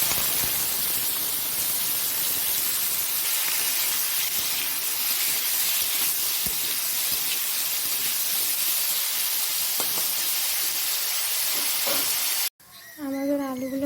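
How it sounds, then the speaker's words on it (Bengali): Potatoes frying in hot oil in a wok, a steady loud hiss and sizzle running almost without break, cutting off abruptly near the end. "এবার গরম তেলে আলুগুলো দিয়ে দেব।"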